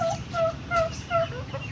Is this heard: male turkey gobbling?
yes